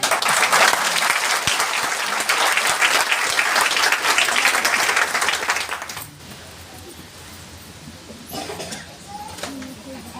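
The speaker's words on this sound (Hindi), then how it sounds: "यही इसी को जोरदार ताली बोलते हैं।" A crowd at a DXN business seminar breaks into loud, dense applause that roars for about six seconds, then drops to scattered lighter clapping and room noise.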